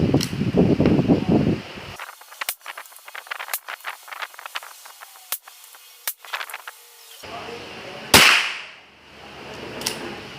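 .22 LR ELEY Force rounds are fired at targets, with several sharp, isolated cracks spaced irregularly amid quiet stretches, and a louder shot near the end followed by a fading rustle.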